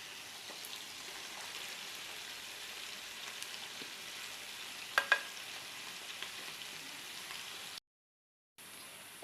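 Onions fry in a pan, giving a faint, steady sizzle with a couple of sharp clicks midway and a short dropout near the end.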